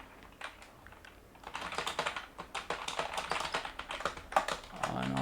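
Computer keyboard typing while annotating an AutoCAD isometric projection drawing, a close run of quick irregular key clacks that picks up after a quiet start and continues to the end, with a faint voice briefly under it.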